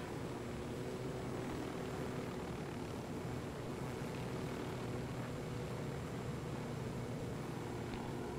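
A helicopter in Ghost Recon Wildlands gives a steady, even engine and rotor drone that holds throughout, moderately loud with no talk over it.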